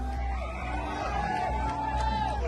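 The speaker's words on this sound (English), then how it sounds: "Supporters start chanting Kirk's name ahead of his appearance." A crowd of about 3,000 supporters at an outdoor event chanting and cheering before a speaker appears, a dense, loud wall of many voices shouting together with rising whoops.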